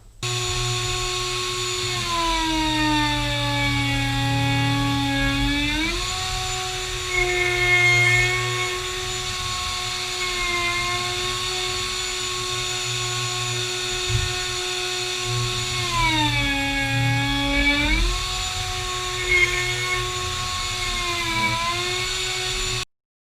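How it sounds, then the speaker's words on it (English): Wood router riding on a sled to flatten a live edge slab, a steady high-pitched whine running continuously, dipping briefly in pitch twice as the bit bites into high spots, close and loud with no talk. "I'll move my melamine with my router sled to hit the high spots"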